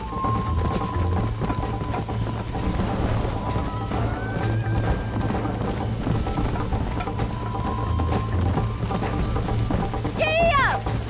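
Horses gallop with rapid hooves in the Red Dead Redemption video game, the clip-clop steady under music and a rising whinny near the end.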